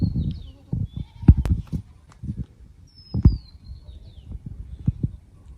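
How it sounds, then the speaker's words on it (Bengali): A goat bleats a few times nearby amid rustling and scattered footsteps during village fishing, with a faint bird call above. "ভয় পাস করে, হেই ছাগল যা।"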